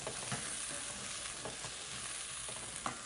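A braising pan sizzles and crackles steadily during deglazing, a faint, even hiss with occasional small pops and stirring sounds, no voices.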